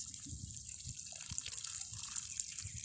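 Water draining and trickling through soil in a filled cocoa seedling bag, with soft irregular drips and faint low thuds throughout, close and quiet, no voices.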